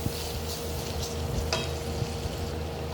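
Chicken mixed with ginger-garlic paste fries in a pan for a chicken cheese spaghetti. A steady, close, crackling sizzle runs throughout with occasional stirring scrapes.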